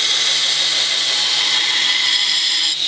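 A belt grinder runs steadily at close range with a dense, bright whine, shaping a flat-ground knife; the tone holds constant with a slight dip near the end and no talking.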